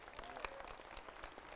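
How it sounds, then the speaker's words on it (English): A church congregation claps hands in praise at an Easter service, a faint, distant spread of clapping across the room for a brief moment. "Somebody give the Lord a hand clap of praise."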